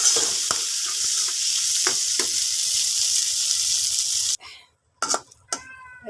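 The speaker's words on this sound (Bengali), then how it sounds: "এই যে আলুগুলো ভাজি হয়ে গেছে" Potatoes coated in salt and turmeric fry in a pan with a loud, steady sizzle. Near the end it drops away, leaving a few clinks and scrapes of the pan and utensil.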